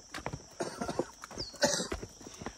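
Horse hooves clip-clop along a rough mountain trail near Ghandruk in the Himalayas, a run of uneven nearby hoofbeats with no talking.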